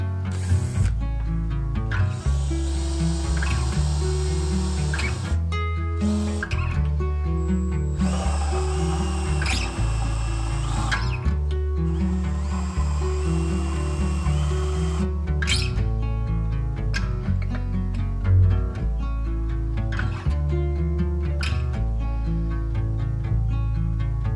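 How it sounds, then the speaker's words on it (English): A power drill bores and countersinks screw holes in metal trim at a camper kitchen countertop corner, loud and close, with repeated whirring bursts broken by short pauses and no talking. "then drilled and countersunk some holes for screws to go into for securing it to the top"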